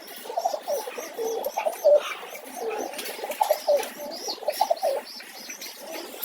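Pigeons coo repeatedly in a soft, rhythmic series of low throaty calls, close by, with faint chirps and brief wing flaps around them and no talking.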